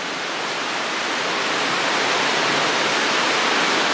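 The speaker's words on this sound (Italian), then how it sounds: "Siamo sotto le cascate." A steady, dense roar of the Cascata della Soffia waterfall in Sospirolo, heard from beneath the falls, loud and close, unbroken throughout with no voices.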